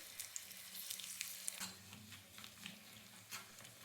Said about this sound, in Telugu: కాస్త బాదం పప్పు, జీడిపప్పు, ఇందాక కోసుకున్న కొబ్బరి ముక్కలు నెయ్యిలో వేపుకుంటున్నానండి